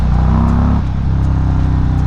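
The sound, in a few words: Indian Chieftain motorcycle exhaust running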